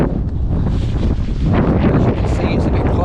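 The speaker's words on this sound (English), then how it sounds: "as you can hear, it's a little bit breezy as well" Strong wind on the open North Yorkshire Moors in February buffets the microphone in loud, gusting roars that swell toward the end.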